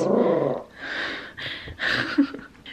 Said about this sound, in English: stop barking at all the neighbors.